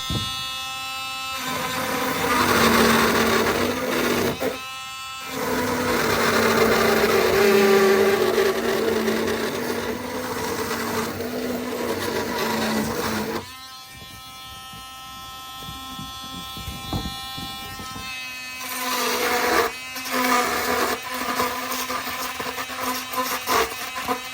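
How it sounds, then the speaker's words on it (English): A Dremel rotary tool grinds along the length of a wooden board for a boarded-window Halloween prop, a loud, steady whine that dips and surges between passes, with brief stops, heard up close without speech. "Now I'm just going to use the Dremel and I'm going to run it the length of the board a few times"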